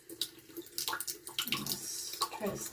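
Tap water runs in broken bursts, splashing close by during a craft or painting session indoors, with brief quiet gaps between pours.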